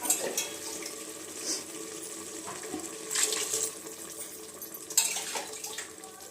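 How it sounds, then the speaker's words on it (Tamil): Ten glasses of water splash and pour into a pot for biryani rice, with intermittent gushes and clatters of metal cookware nearby. "இப்போ 10 கிளாஸ் தண்ணி ஊற்றியாச்சு."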